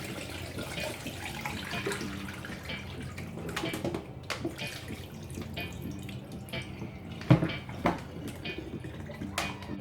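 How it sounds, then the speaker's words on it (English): Running water splashes into a sink with a steady rushing flow as it is poured off mutton, a few clanks and knocks breaking through near the end. "And we're going to throw off the water."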